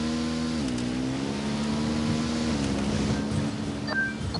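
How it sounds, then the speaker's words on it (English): A motorcycle rides along in the video game Ghost Recon Wildlands, its engine a loud, continuous drone whose pitch steps down twice as the gears shift. "I'm riding the motorcycle."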